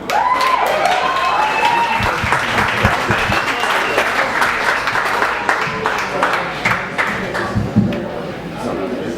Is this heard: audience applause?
yes